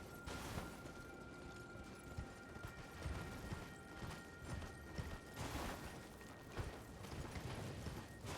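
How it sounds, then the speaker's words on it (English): Summoned horse in the Elden Ring video game, hooves clip-clopping at a brisk pace over layered game ambience and mechanical effects, moderately faint and continuous. "You can summon your horse in a no combat zone?"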